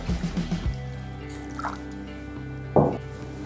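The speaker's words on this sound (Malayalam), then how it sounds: "കുറച്ചൊന്ന് വെള്ളം ഒഴിച്ചു കൊടുക്കാം വേവുന്നതിനായിട്ട്" Water is poured into a cooking pot of raw mango rice, heard as two short close splashes after some faint low clatter, in an otherwise quiet kitchen.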